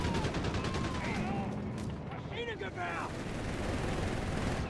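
Distant gunfire and explosions from a Company of Heroes 3 battle crackle and thump continuously in the background, a dense but faint clatter of shots and blasts.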